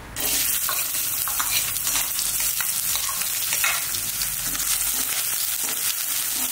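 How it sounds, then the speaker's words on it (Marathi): Fresh onion tossed into hot oil crackles into a loud, dense sizzle that holds steady throughout, with faint stirring in the background and no voices. "ह्याच्यामध्ये आपण आता कांदा टाकून घेऊ. ओला कांदा घेतलेला आहे ना, ते कांदा टाकून घेऊ. तेल गरम झालेलं आहे."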